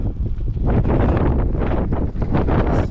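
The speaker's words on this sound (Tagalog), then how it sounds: "Abot pa rin yung lakas ng hangin amihan." Strong gusting amihan monsoon wind buffets the microphone in loud, rough bursts that rise and fall continuously, with no voices.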